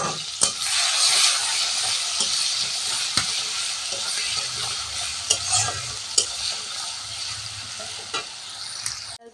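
Onion, garlic and ginger sizzling in a little oil for chicken kosha, a steady bright frying hiss broken by occasional scrapes and knocks of a spoon stirring in the pan.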